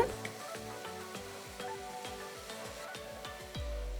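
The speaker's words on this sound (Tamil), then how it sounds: "ஒரு டீஸ்பூன் உப்பு போட்டு தக்காளியை வதக்குங்க." Steady sizzling of tomatoes sautéing with salt in a pan, with scattered crackles and a faint stirring scrape throughout, close and moderately loud.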